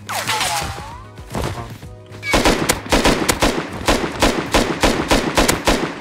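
Automatic gunfire in the survival game Rust, with rapid bursts of loud, close shots that grow denser and more regular in the second half, preceded by scattered shots and faint game sounds.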